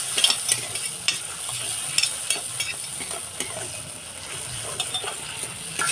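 Tomato with ground cumin and chili paste sizzles and stirs in a pan for a Bengali doi katla dish, a steady fry with small scraping clicks from a spoon.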